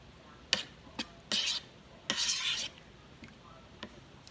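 Peach cobbler filling being mixed in a bowl: a few brief scraping strokes and short bursts of rubbing, close and fairly quiet, separated by pauses.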